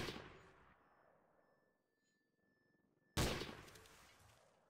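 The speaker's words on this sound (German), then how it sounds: "Wir werden beschossen, hab ich das Gefühl." Bursts of gunfire in the online shooter Trouble in Terrorist Town, a loud volley fading out, a brief faint tone, then another sharp loud burst of shots near the end.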